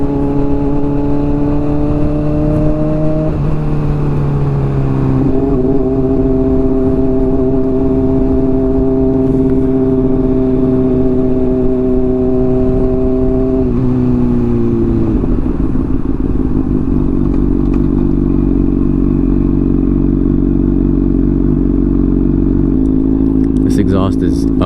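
A 2017 Honda CBR600RR with a Hotbodies Stinger exhaust idles and revs up in steady stepped blips, its loud, close engine note rising and settling.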